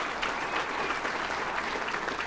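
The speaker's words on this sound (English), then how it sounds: "That clap, that applause is as much for that 30 team" Steady audience applause at a luncheon honoring a Dalhart, Texas football team, a continuous wash of many hands clapping, moderately distant and even throughout.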